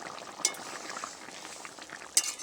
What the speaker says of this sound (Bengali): বেশ সুন্দরভাবে তরকারিটা ফুটে উঠেছে।